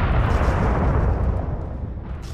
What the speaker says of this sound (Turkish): Büyük bir patlamayla boğaz bir kez daha inledi ve Ocean da su alarak batmaya başladı.